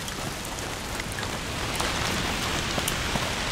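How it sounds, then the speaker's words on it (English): Steady rain pours across surfaces in the game A Plague Tale: Requiem, a dense, even hiss with scattered droplet taps and no voices. "Foul rain."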